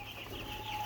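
Cornish cross meat chicks clucking and peeping in a brooder, soft continuous chirps close by with a faint steady hum beneath.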